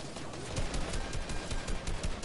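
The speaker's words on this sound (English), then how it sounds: "I'm getting shot at." Rapid, rhythmic gunfire cracks toward the player in a video game, a steady run of close shots filling the short stretch with no talking.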